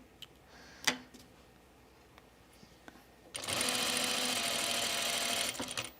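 Sewing machine stitching a dress, a few faint clicks and handling taps, then a steady close mechanical whir running for about three seconds before stopping.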